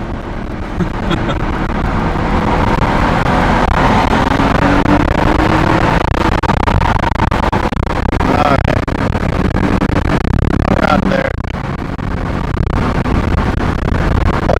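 A Nismo R32 Skyline fitted with ceramic turbos pulls hard in second gear toward about 4,000 rpm, its engine droning loudly and rising inside the cabin while occupants talk over it.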